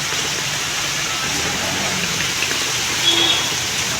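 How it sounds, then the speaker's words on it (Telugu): Heavy rain pours steadily in Bengaluru, a dense, even hiss of falling water close by with no letup. "మమ్మీ వాన వస్తుంది"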